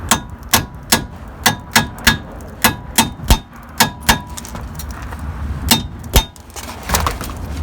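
Steel hammer striking nuts to tap them through on a Toyota Camry passenger-side CV axle job, a run of about a dozen sharp metallic clangs in steady rhythm, close and loud, with no talking.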